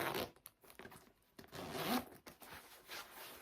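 A zipper on a black nylon Kate Spade backpack's front pocket is pulled open and shut in quick, close raspy strokes, several short zips with brief pauses between them.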